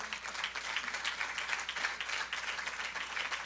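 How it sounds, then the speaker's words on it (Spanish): Church congregation applauding during a sermon, a steady, even wash of clapping at moderate volume heard from across the room, sustained without talk. "Alguien le da un aplauso fuerte al Señor."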